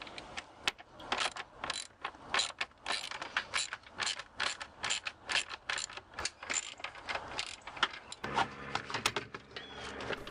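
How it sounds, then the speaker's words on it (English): A ratchet unbolts the air resonator box on a Saturn car, giving a long run of quick, fairly loud clicking bursts in uneven rhythm, close by and with no talk over it. "After unbolting the air box, set it aside."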